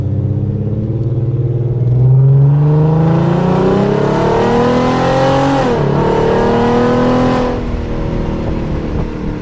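A 2008 Mustang's 4.0 V6 with an idle chop mod climbs from a low rumble into rising revs, wavers, then settles back, loud and close throughout.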